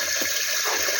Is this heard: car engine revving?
no